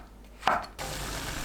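A knife makes one crisp cut through a shiitake mushroom, slicing it about half a centimetre thick on a cutting board, followed by a soft background hiss in a quiet kitchen.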